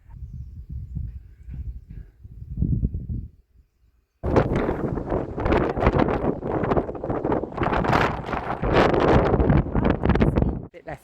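Strong gusty wind buffets the microphone during an outdoor run in Ciutadella, Menorca, a rough low rumble that drops out briefly and then returns louder and more turbulent.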